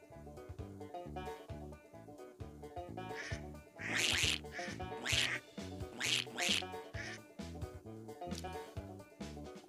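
Several ducks quack in loud bursts over a rhythmic, repeating musical backing, the quacks clustering in the middle and trailing off toward the end.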